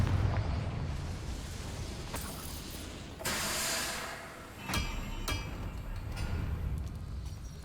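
Confringo spell blasts burst in the Hogwarts Legacy video game, a few fiery explosive whooshes and pops at moderate level over a rumbling game background, spaced unevenly across several seconds.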